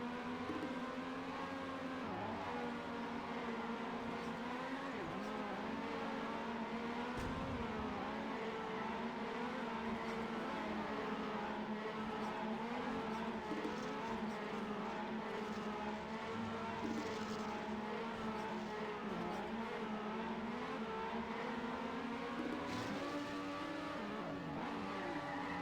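A race car engine in the TrackMania video game hums steadily and continuously at moderate volume for about twenty-five seconds, with slight pitch shifts as the car changes direction and no talking over it.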